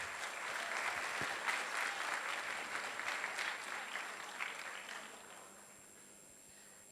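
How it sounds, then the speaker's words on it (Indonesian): Audience applause at the East Java Data Hackathon 2022 ceremony, a steady wash of many hands clapping for about five seconds before fading away near the end. "boleh tepuk tangannya."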